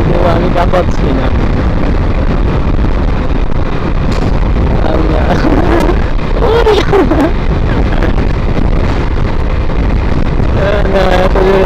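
Strong wind buffets the microphone while riding a motorbike across the Padma Bridge at about 70, a loud constant roar with engine drone underneath and someone talking over it.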